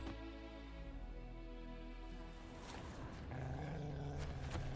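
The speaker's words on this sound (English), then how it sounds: "Aha, I hear a wolf." A wolf in The Witcher 3 snarls and growls, a deep, harmonic roar that thickens and grows rougher and louder toward the end amid game ambience.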